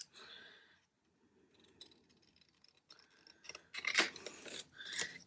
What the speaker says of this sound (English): I just need to trim it down a tad.